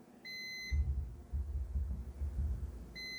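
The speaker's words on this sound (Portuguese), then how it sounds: "ele dá um bip, sinaliza no display para nós" Two short high electronic beeps from a UNI-T UT61E+ multimeter's non-contact voltage detector held against a wire, one near the start and another at the end, over a low rumbling handling noise.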